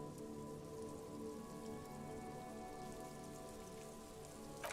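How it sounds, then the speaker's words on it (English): Rain pours over water in the video game Disco Elysium, a dense, steady patter with no break, joined by faint sustained musical tones beneath it. "Sheets of rain over the water."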